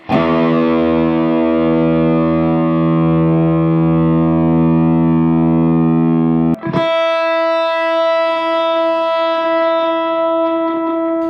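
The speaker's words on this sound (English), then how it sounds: "When you're right up close, a bit of a warbly effect." A guitar note is played up close to a Kickstarter guitar gadget, giving a loud, sustained, buzzy tone with a warbling distorted effect, then a sharp break and a second, cleaner sustained note ringing on alone.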